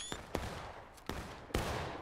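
Bursts of gunfire in a video game capture-the-flag match, four sharp shots spaced irregularly across two seconds, each with a short ringing tail over a steady background rumble.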